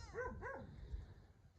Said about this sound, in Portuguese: O cachorro tá lá do outro lado do terreno do vizinho.